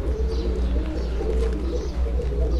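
Pigeons coo softly inside a netted loft, low repeated calls over a steady hum, close and continuous without voices.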